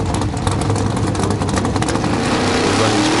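A VW with an alternate engine revs loudly at a Bug Jam drag race, its dense, continuous engine roar holding close and steady for a few seconds with no speech.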